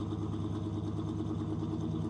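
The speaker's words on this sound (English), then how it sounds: "This car makes a lot of noise." An old car's engine runs loudly and steadily, a continuous low rumble with a rough clattering texture, close and unbroken for the whole stretch, with no voices over it.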